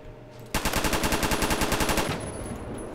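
Loud, fast full-auto burst in Roblox Phantom Forces, a steady rattle of roughly fifteen close shots lasting about a second and a half, then quieter game ambience.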